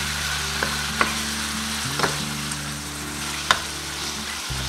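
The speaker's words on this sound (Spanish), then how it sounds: "y lo vamos a estar friendo con este ajo" Chicken sizzles steadily with garlic in a hot pan, with a few sharp clinks of a utensil stirring against the metal; close and continuous.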